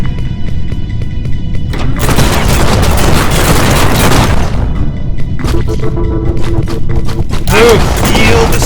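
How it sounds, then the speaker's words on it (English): Heavy booming shotgun blasts and bursts of gunfire in the PC action game G2 Fighter, loud and close, coming in two dense clusters amid other game noise. "Shotgun."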